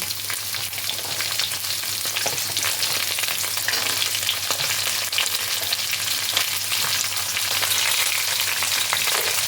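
Pumpkin and flat beans fry in hot oil with a dense, continuous crackling sizzle, close and fairly loud, with occasional stirring scrapes and a faint steady hum beneath.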